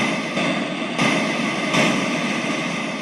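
A harsh, synthetic rushing noise from a Livingstone DM650 keyboard's seashore preset swells and surges in broad waves, loud and steady, like an electronic imitation of crashing surf.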